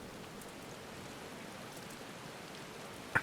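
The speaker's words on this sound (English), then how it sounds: "And it starts raining." Steady rain falls in Final Fantasy XIV, a soft, even hiss of drops that holds at a constant low level throughout, with a brief small tap near the end and no voices.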